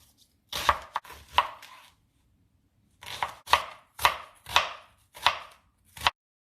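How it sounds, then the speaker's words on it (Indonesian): A knife finely chops garlic on a board in two bursts of sharp, close taps, a few strikes, then a pause and about half a dozen more evenly spaced chops. "Kemudian kita potong halus."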